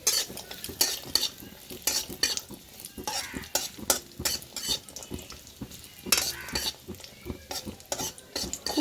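Raisins and broken cashew pieces fry in hot ghee in a kadai for pulao, a soft sizzle under frequent, rhythmic scrapes and clinks of a spoon stirring against the pan, close by, with no talking.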